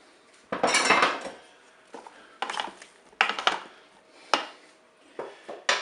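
Chopped peppers, tomatoes, zucchini and eggplant tumble into a Cookeo electric pressure cooker pot in several separate clattering drops, with spoon scrapes against the metal between bursts.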